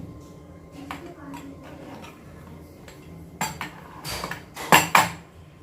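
Rava idli being taken out onto a plate, with a few close clinks and scrapes of utensils and dishes that grow louder near the end while a person talks.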